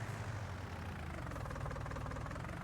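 A tractor engine runs steadily in the Farming Simulator video game, a low, rough, knocking idle with a rapid even pulse, faint and continuous with no voices.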